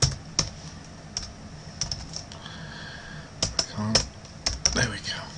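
Typing on a computer keyboard, irregular clusters of light clicks with pauses between, close and clear, while someone talks quietly over it.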